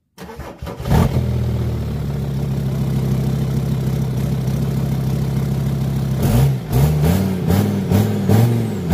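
A VW T5 van engine cranks briefly, catches and settles into a steady, slightly uneven idle, then revs a few times near the end; a voice speaks one short word.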